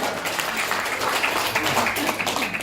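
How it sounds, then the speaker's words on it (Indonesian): An audience at a motivational seminar claps together in dense, steady applause that holds at an even level for a few seconds. "Oke, tepuk tangan dulu untuk Anda semuanya ya."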